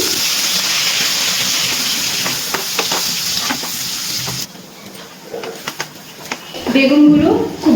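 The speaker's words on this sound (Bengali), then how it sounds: "একটা বেগুনকে আমি ছোট ছোট করে কেটে নুন হলুদ মাখিয়ে ভেজে নিচ্ছি" Small salted, turmeric-coated eggplant pieces fry in oil in a wok, giving a steady, loud hiss that cuts off abruptly partway through, leaving only faint kitchen clatter and scattered light taps.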